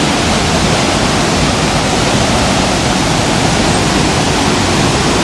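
Spring water pouring steadily into a neglected pool at the foot of Mount Argopuro, a dense, continuous broadband rush like a small waterfall, loud and close with no pauses and no talking.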